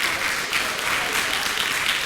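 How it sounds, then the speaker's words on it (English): Audience at a hypnotist show applauding steadily, a dense, even wash of many hands clapping close and loud for the whole stretch with no pauses. "Give them a round of applause, ladies and gentlemen."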